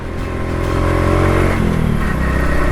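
A motorcycle engine laboring on a steep uphill road in Sigay, Ilocos Sur, loud and close, with a steady mid-pitched drone that strains and rises in pitch partway through.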